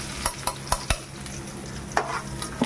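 Curry leaves, black pepper and cumin sautéing in a pan for horse gram rasam, a steady low sizzle broken by several sharp stirring scrapes and clinks, close and alone with no talk.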